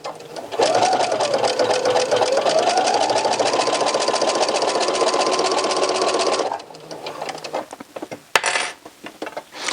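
A sewing machine stitches sweater knit fabric in a fast, even mechanical whir that rises slightly in pitch, stops after about six seconds, and is followed by quiet handling noises and a sharp click.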